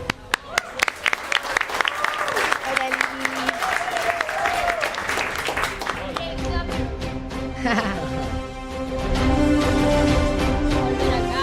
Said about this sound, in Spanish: por favor recibámosla con un fuerte aplauso